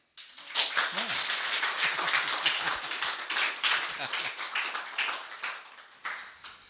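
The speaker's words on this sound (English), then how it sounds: "Give her a clap." Wedding guests clap for the bride at a ceremony, a steady close burst of many hands lasting several seconds, with a voice speaking briefly over the applause.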